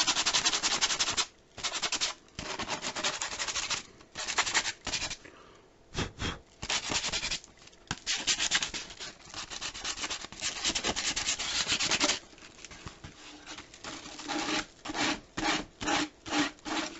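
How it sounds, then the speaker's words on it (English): Steady abrasive rubbing of sandpaper on a plastic skull in long strokes, then shorter choppy passes near the end, close and fairly quiet. "give it a light sanding"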